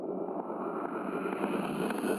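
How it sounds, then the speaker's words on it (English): A riser sound effect built from a processed human voice in the 8Dio Hybrid Voices library, a steady dense engine-like roar that swells slightly louder toward the end, with no speech. "It's a riser, so it sounds like an engine, kind of, by nature."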